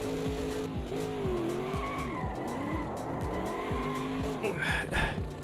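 Porsche drifting in the racing game Automobilista 2, with sustained tire squeal and skidding over a revving engine whose pitch swoops up and down repeatedly, loud and continuous.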